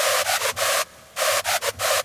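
Sylenth1 synth screech shaped with reverb, chorus and a treble EQ boost: harsh, buzzy gated stabs in a choppy rhythm, broken by a short silent gap mid-phrase, loud and dry-sounding with no voices.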